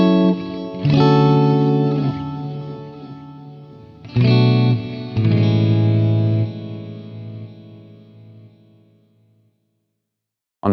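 Guitar chords played through the CorOS delay effect on its 4 alt setting, each strum followed by cascading repeats that decay gradually over several seconds; three main struck chords, with no talking.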